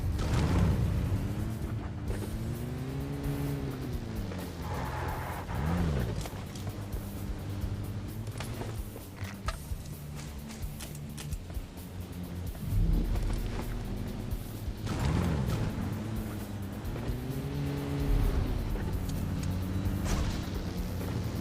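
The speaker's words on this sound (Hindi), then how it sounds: "मैं सोच रहा था कि यार कब तक ऐसे गाड़ी में घूमते रहेंगे" A car in an online shooter video game drives steadily with a continuous engine drone, its pitch rising and falling in sweeps as it accelerates and shifts, loud and close throughout.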